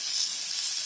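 Chicken sizzles hard on a Ninja wood fire grill during a spring BBQ, a steady close, loud hiss of fat and steam that fills the moment with no voice over it.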